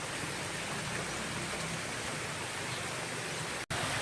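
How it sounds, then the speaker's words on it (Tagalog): Heavy rain pours steadily in a dense, unbroken hiss, loud and close, with a brief dropout near the end. "lumalakas na yung ulan no."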